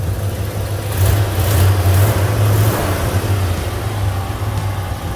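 A 1968 Chevrolet Impala SS convertible's 327 V8 engine idles close by with a steady, even low rumble and a slight rise in the middle, running smoothly throughout.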